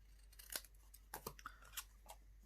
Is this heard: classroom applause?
no